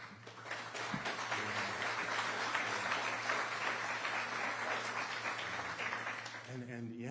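An audience applauds at a news conference in Jacksonville, a steady patter of clapping held for several seconds at low volume before it fades and a voice begins speaking.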